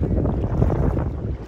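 Boats cruise on clear water near a sandbar on a sunny summer day, a low rumbling engine drone heard under heavy wind buffeting against the microphone.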